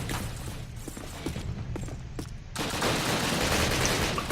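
Machine gun fire rattles in Call of Duty Classic on the Pegasus Bridge level, starting as sharp scattered bursts and then turning into a dense, unbroken roar of gunfire with no voices.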